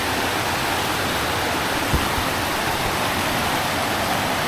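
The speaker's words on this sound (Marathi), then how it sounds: "वरून जो मोठा ओढा वाहतो त्या ओढ्यावर आम्ही पोचलो" A large stream flowing on a waterfall trek gives a continuous, broad rushing roar, steady and fairly loud throughout with no voices.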